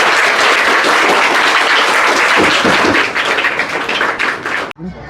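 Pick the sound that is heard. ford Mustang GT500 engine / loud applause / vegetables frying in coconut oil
loud applause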